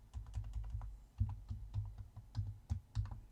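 Quiet keystrokes on a computer keyboard, a steady run of soft irregular clicks and taps as short text gets typed into a spreadsheet button, with no voices.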